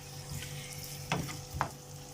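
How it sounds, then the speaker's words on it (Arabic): Chicken liver and gizzards frying with onion in a pan, a steady low sizzle with two sharper scraping stirs of a spoon partway through, close and without talk. "نبتدي نقلب فيها كده لحد انا عايزاها ما تبتدي تصفر كده شويه"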